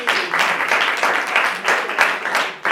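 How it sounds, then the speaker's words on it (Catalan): A studio audience on a Catalan television show applauds a young man named Xavi as he stands up, giving dense, steady clapping with a few voices mixed in, holding its level for the whole stretch. "Un aplaudiment també pel Xavi!"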